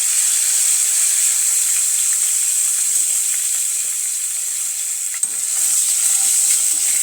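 Curry leaves hit hot oil with sizzling chilli-garlic paste for a dhaba-style sev tamatar sabji, making a loud, steady, close frying hiss with a brief crackle near the end.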